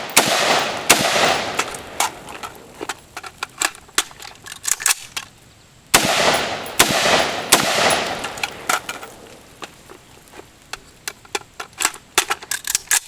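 A SIG M400 AR15 rifle fires sharp shots in short groups of three or four at an outdoor range, with quiet gaps for magazine changes between the strings.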